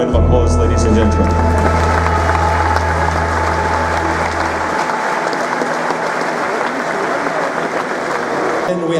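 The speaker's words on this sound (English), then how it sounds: "I think they deserve a wonderful round of applause, ladies and gentlemen" Applause fills a boxing event at the Ulster Hall in Belfast, a large crowd clapping steadily and loudly throughout, with a deep low hum sounding under the first half before cutting out.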